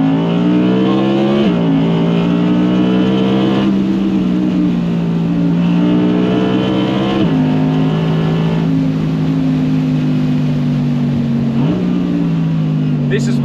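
An Audi R8 RWD Performance V10 revs hard on a closed private road beside a rock face, a loud, continuous close-up howl that climbs through several gear changes with brief dips, and a voice talks over it.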